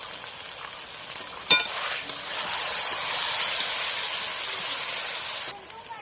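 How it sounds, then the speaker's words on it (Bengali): Ginger paste, cumin paste and ground spice paste frying in oil for jackfruit with prawns, a sharp clatter at the start, then a steady close sizzle with stirring that swells and fades. "এবার দেওয়া হচ্ছে চাল মোগরা বাটা দিয়ে ভালোভাবে কষিয়ে নেওয়া হবে তেল ছাড়া পর্যন্ত"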